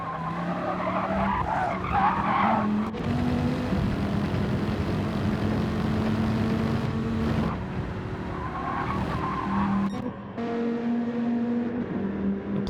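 A race car in a racing game loses grip exiting turn 6, tires screeching loudly for seconds over a steady engine drone, then squealing again later as the car recovers.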